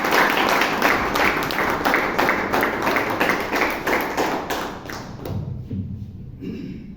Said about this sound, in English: Can we give a big round of applause for?